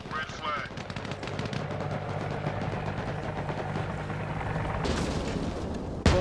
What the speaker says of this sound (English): Some fucking rockets coming in.